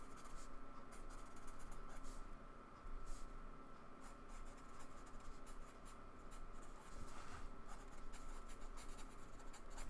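A marker squeaks and scratches across notebook paper in short, repeated strokes, close and faint against a quiet room.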